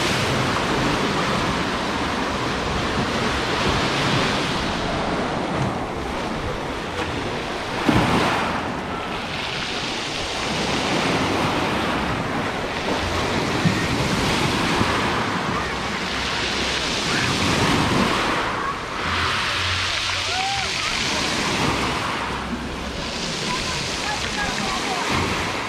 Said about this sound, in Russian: Немножечко волна есть.